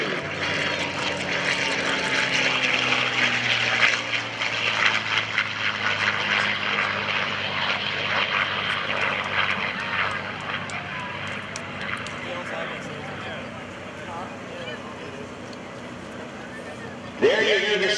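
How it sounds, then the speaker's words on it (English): A World War II P-51 Mustang with a Packard-built V12 engine drones past at an open house air show, its loud propeller roar swelling and slowly fading while a commentator talks over it on the PA. "There you hear the sound of the Mustang, that V12 engine"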